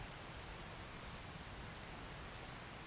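Rain in the video game Skyrim falls as a steady, even hiss with no breaks and no other sounds over it.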